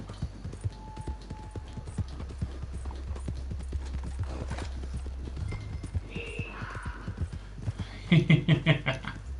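Horse hooves clip-clopping at a steady galloping rhythm in Red Dead Redemption 2, with a whinny and a burst of louder, denser hoofbeats near the end.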